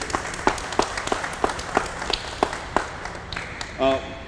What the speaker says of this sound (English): you need to give these two a big round of applause, the entire Parks Department